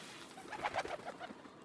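Pigeons feeding on grain and mustard seed coo softly in a short, close cluster of low warbling calls, with no talk.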